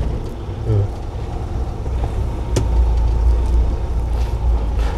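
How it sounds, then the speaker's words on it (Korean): Rough, shaking idle of a 2.5-ton manual-transmission truck engine just after starting, a steady low rumble with slight vibration, fairly close and continuous, with brief speech faintly underneath. "방금 차가 다들 떨리잖아요."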